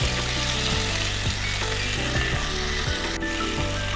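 Potatoes fry with a spoonful of salt in a pan for a Bengali cauliflower posto dish, a loud, dense, continuous sizzle overlaid with rhythmic low scraping strokes from stirring, close up and without speech.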